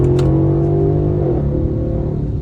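A 2016 Mercedes-Benz S550 Coupe accelerating in sport mode, its engine holding a loud, smooth mid-range hum with steady harmonic tones that dip slightly as it shifts, heard close from inside the cabin without talk.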